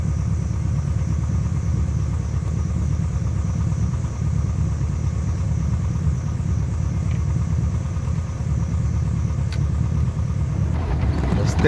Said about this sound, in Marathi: समोरून एक जीप क्रॉस झाली।